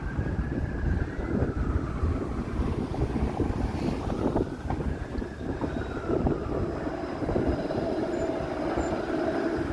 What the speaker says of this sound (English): That was just a fire truck going to hopefully not a serious fire somewhere.